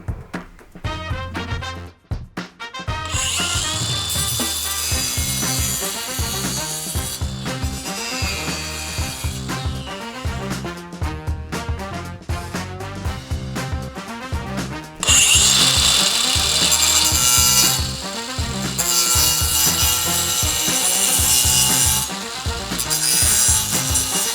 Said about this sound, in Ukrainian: спочатку робимо запилювання 8 мм для звичайного пластикового профілю